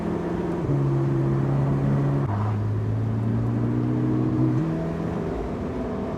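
Porsche 918 Spyder engine droning loudly and steadily, its pitch stepping down and up through gear changes, heard close with no talk.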